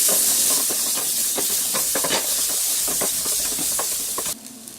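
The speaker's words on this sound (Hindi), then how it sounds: "प्याज को 1 मिनट के लिए हम भूनेंगे।" Onions frying in a pan with ginger and garlic for corn curry, a loud steady sizzle and hiss with soft stirring scrapes, dropping away sharply near the end.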